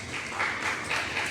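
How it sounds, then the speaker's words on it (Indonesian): A crowd of students at a university orientation session breaks into steady, dense applause, a continuous wash of many hands clapping close and even throughout. "Tepuk tangan."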